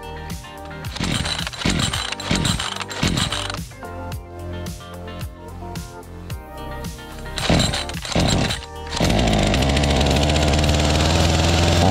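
Ruris RM540 chainsaw engine, fuelled and with chain oil, first firing in rough bursts and sputters before settling into a loud, steady idle close by, no talk over it.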